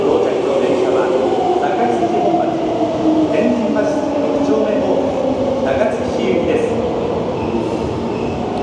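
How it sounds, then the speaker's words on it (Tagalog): Steady loud rumble and rolling roar of an Osaka metro train in motion, heard from inside the carriage with faint rail clatter, while people talk beneath it. "Ang ganda ng train dito sa Osaka."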